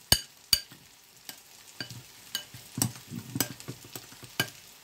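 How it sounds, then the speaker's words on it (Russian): A spoon knocks sharply against a bowl several times at irregular intervals, close by, over a soft sizzle of cutlets frying. "Очень громко стучит ложка по миске, да?"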